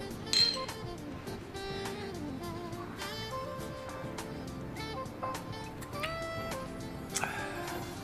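Glasses clink together in a toast, a few light, quiet chinks spread over a soft, steady background.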